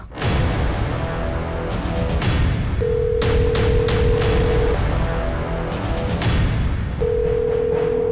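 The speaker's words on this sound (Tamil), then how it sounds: "ஃபோன் பண்ணி பார்க்கலாம்" A telephone call tone sounds while someone rings a phone, a steady held tone coming in long bursts with gaps, set against a loud, dense dramatic music bed with sharp hits.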